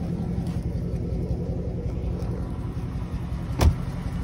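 A Dodge Hellcat engine idling close by as a steady low rumble, with a brief thump near the end and no talking.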